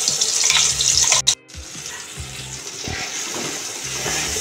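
Spice paste tipped into hot mustard oil over tempered spices, starting with a bright steady sizzle, cut by a sharp clatter and brief drop, then settling into a softer bubbling fry with no talking.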